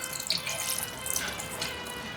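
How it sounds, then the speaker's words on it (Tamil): A tumbler of water poured into a cooking dish for air-fryer mac and cheese, a short, close splashing trickle with faint drips, heard alone. "அப்புறம் ஒரு டம்ளர் தண்ணியை போடுறோம்."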